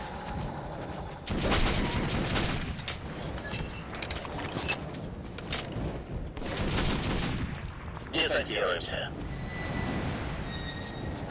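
Automatic weapon fire in Metro 2033 Redux, sustained loud bursts of rapid shots across the whole stretch, with clinking metallic sounds and some voices mixed in.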